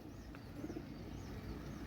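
Red-eyed Pakistani pigeons coo softly, a low murmuring purr close by, faint and continuous over a short stretch.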